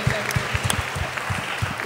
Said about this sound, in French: On t'applaudit aussi pour tout ce que tu as fait